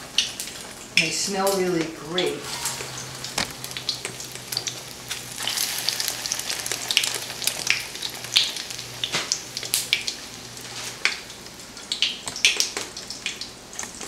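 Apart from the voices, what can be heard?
eggplant frying in hot oil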